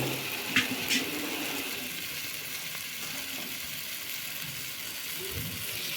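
Ingredients for a soybean curry sautéing in a hot pan, giving a steady, close sizzle with a couple of faint clinks near the start.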